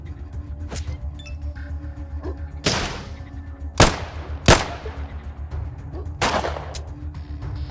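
Gunshots in the Atom RPG video game: several sharp, loud cracks spaced a second or so apart over a low background hum, with no one talking.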